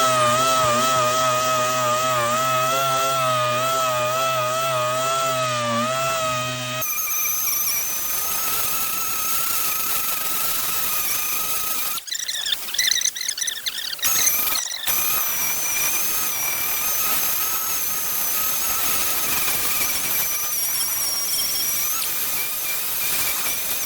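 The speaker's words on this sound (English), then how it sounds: "So we're just gonna sand some of this stuff off of here." Power sanding a custom flag pole: a loud, continuous high whine and rasp of the sander running close by, changing pitch partway through with brief interruptions and squeals, no talking.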